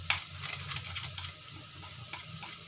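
Onions fried in a pan are stirred with ground and crushed red chili and turmeric, producing soft scraping strokes over a quiet sizzle, close and fairly faint, without talk.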